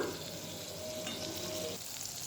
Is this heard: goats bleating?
no